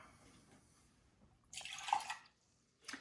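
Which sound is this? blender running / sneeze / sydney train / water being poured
water being poured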